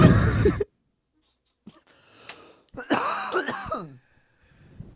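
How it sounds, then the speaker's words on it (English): A person coughs and clears their throat a few times up close, with short gaps of silence between the harsh bursts. "I'm gonna edit out every time I cough on this podcast"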